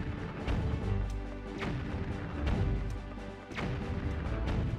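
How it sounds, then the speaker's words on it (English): Cannons boom in The Legend of Zelda: Wind Waker video game, several heavy blasts spaced about a second apart over a dense rumbling bed, fairly loud, with no voices. "They got some really damn good cannons."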